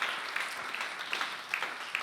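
An audience applauds during a Sunday church celebration service, a steady, moderately distant patter of many clapping hands with a few sharper claps standing out, continuing evenly throughout.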